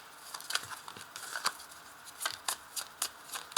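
A deck of tarot cards is cut and handled at close range, giving a string of quick, soft papery flicks and riffles over a quiet background with no voices.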